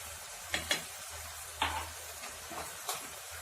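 Taro root cooking in a pan with cumin powder and garam masala, a low steady sizzle broken by a few sharp scraping stirs, close and moderately loud, with no talking.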